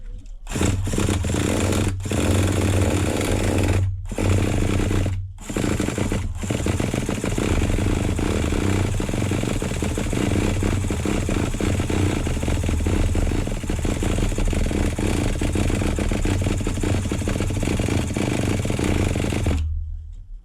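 A nitro engine in an HPI MT2 RC truck, rebuilt and low on compression, cranks with a steady buzzing drone that runs near and loud for most of the stretch, broken by a few brief gaps early on.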